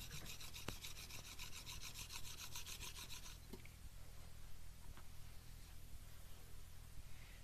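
A blade is honed on a 600 grit sharpening stone, giving a soft repeated rasping rub in steady strokes, quiet and close, with no voices.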